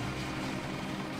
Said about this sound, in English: That's an attack helicopter